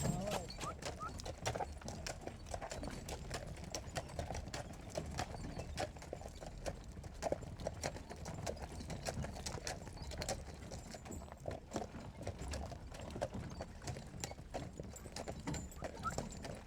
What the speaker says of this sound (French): Là, on repasse au trot.